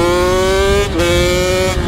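A Kawasaki KX65 dirt bike engine while riding, fitted with new wheels and tires: loud, close, steady high-pitched two-stroke drone held in one gear, dipping briefly before continuing.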